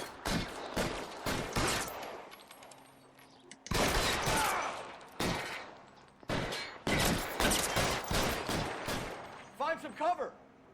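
Gunfire in L.A. Noire: repeated loud pistol and rifle shots in irregular bursts, some single cracks and some rapid clusters, with a short stretch of talk near the end.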